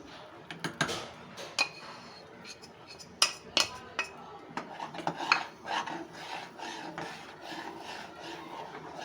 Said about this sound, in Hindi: आपने मुसलसल चम्मच हिलाते रहना है